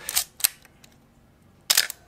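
An Olympus OM10 35mm film camera being wound and fired close up: sharp mechanical clacks of the shutter and advance lever, two quick snaps early on and another cluster near the end, with faint ratcheting between.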